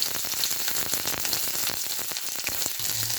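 Pointed gourd pieces frying in mustard oil with dried red chilli tempering, a steady dense sizzle with crackling pops running throughout, close and fairly loud.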